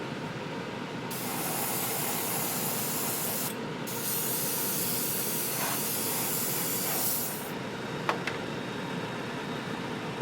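An airbrush lays a second coat of orange paint onto Boost shoes: a steady, close hiss of spray that runs almost continuously, broken by two short pauses, with no talking.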